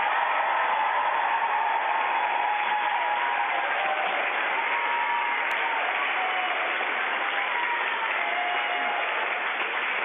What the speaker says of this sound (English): Guys, I think Tim deserves a big cheer.